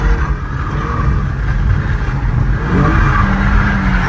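A tuned Infiniti G37 sedan revs hard while drifting, a loud, close, sustained engine roar that swells and wavers.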